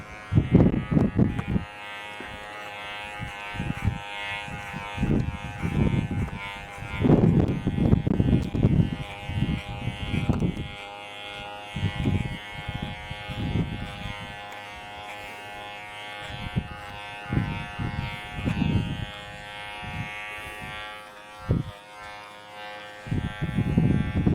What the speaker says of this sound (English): Keep getting hair under the clipper, don't we?